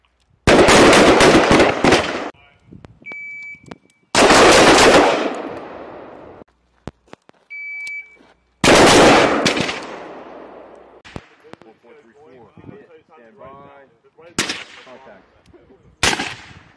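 Marines fire rifles and machine guns on a live-fire range in Korea, with loud, sharp bursts of automatic fire in several separate volleys and pauses between them, while voices talk in the quieter gaps.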